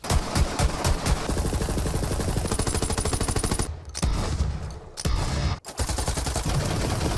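Sustained automatic gunfire in a Borderlands shooter game hammers away in rapid, loud bursts with brief gaps between volleys, with no voices over it.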